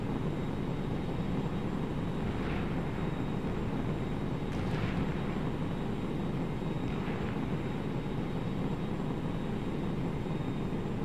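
A He 162 jet fighter in a flight combat video game roars with a steady, loud engine drone throughout, with faint whooshing swells passing at intervals.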